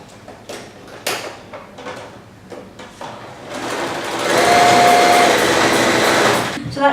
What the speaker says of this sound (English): So that's now me sewing all the strips together